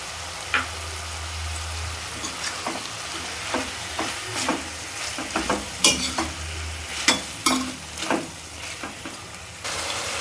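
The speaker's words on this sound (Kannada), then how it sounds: "ಟೊಮೆಟೊನ ನಾನು ಸಣ್ಣದಾಗಿ ಕಟ್ ಮಾಡಿ ಇಟ್ಕೊಂಡಿದ್ದೆ, ಅದನ್ನು ಹಾಕ್ಕೊಂಡು ಫ್ರೈ ಮಾಡ್ಕೊಳ್ತೀನಿ" Finely chopped tomatoes fry in a pan for a mint chicken gravy, a steady soft sizzle under repeated scraping and clinking stirring strokes that grow more frequent toward the end, close and without speech.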